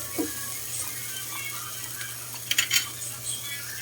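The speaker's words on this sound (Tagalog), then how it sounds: "Tama na natin sa paggisa yan" Miso sautéing in a pan for salmon-head sinigang, a soft steady sizzle with a couple of brief stirring scrapes and clinks of a utensil against the pan.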